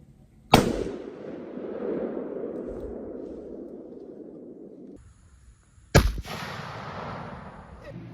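A Remington 7600 pump-action rifle in .30-06 fires two loud shots about five seconds apart, each with a sharp crack and a long rolling echo outdoors.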